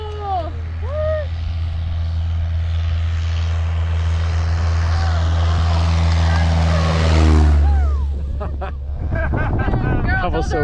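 A propeller airplane passes during a photo shoot, its engine drone swelling to a loud peak with a falling pitch as it goes by, while voices exclaim and chatter around it.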